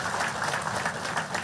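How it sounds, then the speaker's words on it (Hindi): Brief, moderate applause from an audience at a Hindu religious discourse in a temple in Nadi, Fiji, a dense wash of clapping that holds steady. "अपने लिए ताली बजाकर धन्यवाद दो।"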